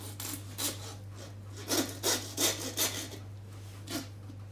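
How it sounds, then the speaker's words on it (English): A meat hacksaw cuts through a lamb carcass during home butchering, a series of rasping back-and-forth strokes, fairly close and moderately loud, with uneven rhythm and no talk. "This is a proper meat hacksaw."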